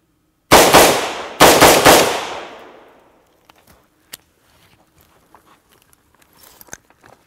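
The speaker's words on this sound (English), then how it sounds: "I'm going to fire 5 rounds downrange" An AR-15 rifle with a muzzle brake fires outdoors: two loud, close shots a second apart, each followed by a long rolling echo, then faint small sounds.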